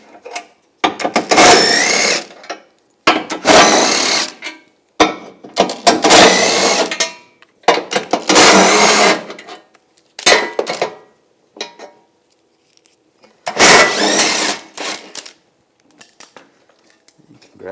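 A 15mm socket on a power tool spins out the front bumper bracket bolts of a 2014-2018 GMC Sierra pickup in about seven loud, close, harsh bursts of one to two seconds each, separated by short silences.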